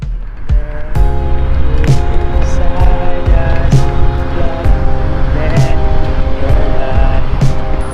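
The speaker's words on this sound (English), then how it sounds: "this place has many cars that are running really fast" Fast cars rush past on an Australian highway beside a bike lane, a loud continuous traffic roar broken by repeated close whooshes as vehicles go by.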